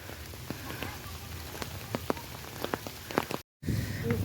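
Steady rain falls throughout a mountain hike in the cold season, a dense patter with scattered distinct drops hitting nearby surfaces, briefly cut off near the end before resuming.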